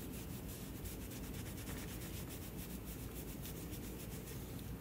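Steady, close scrubbing and rubbing on a painted Easter bunny craft piece, pulling back the top paint layer, continuous and even in level throughout with no talking.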